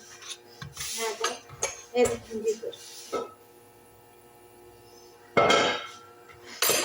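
Chopped lamb is fried in its own fat with no added oil and stirred in a pan, giving bursts of close scraping and rasping with short pauses, while a voice talks over parts of it.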